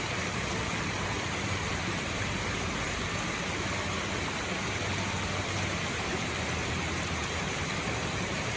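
Waitonga Falls, the tallest waterfall in Tongariro National Park, New Zealand, pours as a steady, dense roar of rushing water, close and unbroken throughout with no talk.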